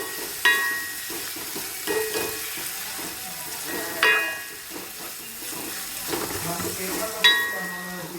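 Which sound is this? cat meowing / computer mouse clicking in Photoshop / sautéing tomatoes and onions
sautéing tomatoes and onions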